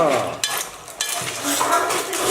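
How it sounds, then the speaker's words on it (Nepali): Ghogi (corn) sizzles as it fries in a pan with tomato mixed in and is stirred, with a steady hiss, scraping and a few sharp clinks of a utensil against the pan. "घोगी फ्राई हुँदैछ"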